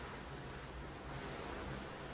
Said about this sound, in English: sipping a cup of coffee with the sound of the ocean in the